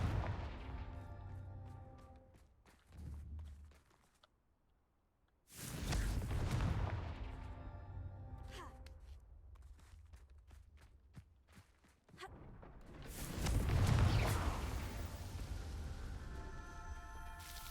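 In Hogwarts Legacy, Confringo blasting spells go off as several separate booming explosions, each with a heavy low rumble that trails off, spaced by quiet gaps and soft game ambience.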